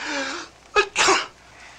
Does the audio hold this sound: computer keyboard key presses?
no